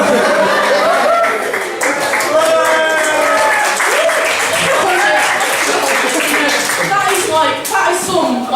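Students at a university refreshers week comedy event cheer and clap loudly in a crowded room, a steady wash of applause mixed with shouting and chatter.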